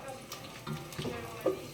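Pork rinds frying in hot oil, a soft crackling sizzle with scattered pops and stirring clatter close by.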